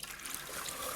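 Pineapple juice is poured into a container, a faint, continuous watery trickle and hiss lasting about a second.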